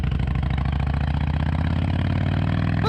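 An old motorcycle engine idling steadily nearby, with an even, loping run of low, rapid pulses and no other sounds.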